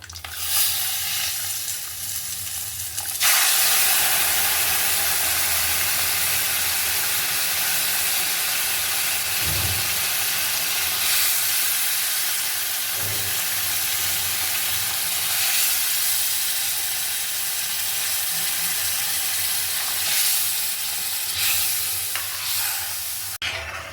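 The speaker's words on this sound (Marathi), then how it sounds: "आता आपण त्यामध्ये पाणी घालूया" A loud, steady sizzle and hiss of hot water poured into a hot pan for lapshi kheer, bursting up sharply and then bubbling on continuously with no voices.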